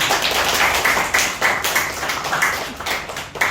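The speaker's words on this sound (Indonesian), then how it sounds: "Kita beri aplaus dulu untuk kelas kali ini." Classroom applause from students at the close of a teaching-practice lesson, a dense, steady patter of many hands clapping throughout with a few sharper claps standing out.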